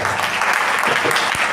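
Audience applause fills a church business summit hall for someone speaker, a dense, steady wash of many hands clapping close by with no voices breaking through.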